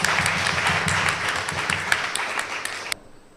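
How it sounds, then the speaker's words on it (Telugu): A crowd at a Christmas gathering claps together in a sustained burst of scattered hand claps that fades and stops abruptly near the end, heard from a modest distance. "చప్పట్లు కొడదామా సంతోషంగా."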